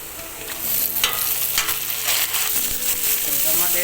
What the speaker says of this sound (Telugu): టమాటా వేసుకొని ఇలా మగ్గించుకోవాలి.